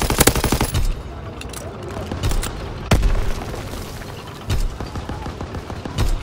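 Call of Duty: WWII gunfire, loud and close, with rapid machine-gun bursts and booming shots that hit in clusters across the clip. Shouted voices come and go beneath the shooting.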